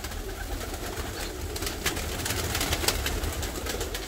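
Fancy pigeons coo softly in a crowded loft, a low overlapping murmur of burbling calls with faint rustles close by, steady throughout and without speech.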